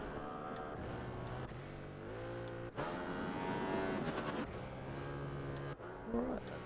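Racing motorcycles lap Donington Park in free practice, their engines droning and rising in pitch as they pass at a distance, under steady commentary.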